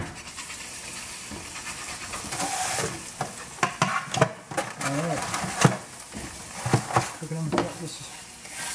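Eggs fry in a hot pan with a steady crackling sizzle, punctuated by scraping and stirring taps from a utensil, heard close with a person talking over it.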